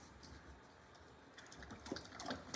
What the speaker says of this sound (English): So you see the water's coming out here, and then it overflows back into there.